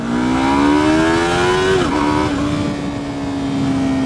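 A 2015 Yamaha R3 motorcycle accelerates hard. Its engine note climbs steadily in pitch, dips briefly at a gear change, then keeps pulling loud and close without a break, with no talking.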